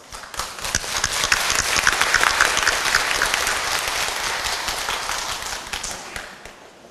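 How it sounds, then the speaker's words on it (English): Audience at a 2012 KOSETA summer workshop for English teachers gives a presenter warm applause, a dense sustained clapping that swells quickly, holds steadily, then tapers off near the end. "Please give her a warm applause."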